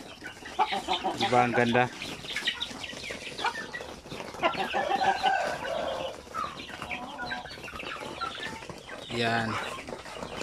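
Chickens and hens at a Filipino poultry farm with breeder stock, clucking and calling in repeated bursts up close, with someone talking over much of it.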